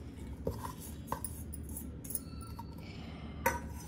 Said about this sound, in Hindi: दो हरी मिर्च हम चॉप करके ऐड कर देंगे